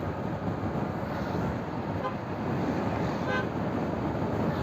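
Vehicle horns honking on a road, short toots over a steady hum of traffic, heard from moderately close, with no talk.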